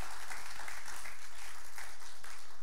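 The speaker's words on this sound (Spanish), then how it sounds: "merece un buen aplauso, ¿verdad?" Audience applause inside a church gathering, a steady wash of clapping that sounds moderately distant and fairly quiet throughout, with no voices over it.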